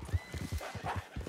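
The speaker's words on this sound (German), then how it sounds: "Wir haben ein schnelles Pferd." Quick, evenly spaced hoof clip-clops from a fast horse in the video game Red Dead Redemption 2, a brisk rhythmic gallop heard fairly quietly with no talk over it.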